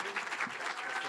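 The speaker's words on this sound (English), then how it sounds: "let's give a huge round of applause to Dr. Vasquez Zarate." Audience applause at an ethnic studies ceremony honoring a new doctor: dense, steady clapping from a crowd, moderately loud and continuous throughout, with no voices over it.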